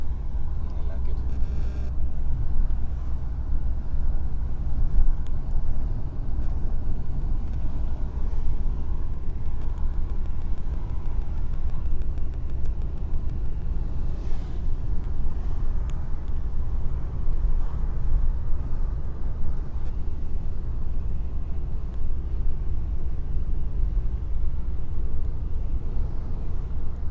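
A taxi drives the winding mountain road from Cetinje down toward Budva in Montenegro, its engine and tyre roar a steady, loud cabin drone throughout, with people talking over it.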